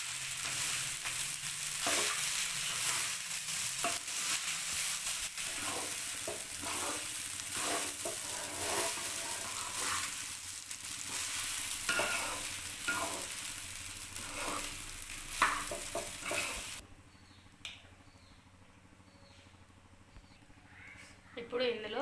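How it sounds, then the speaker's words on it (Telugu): Cooked rice being stirred and mixed in a pan with tamarind leaves for pulihora, giving soft sizzling and scraping under occasional talk, then the cooking noise drops away near the end. "ఇందులో అన్నం యాడ్ చేసేసుకుందాం. మొత్తం బాగా మిక్స్ అయ్యే వరకు మిక్స్ చేసేసుకుందాం."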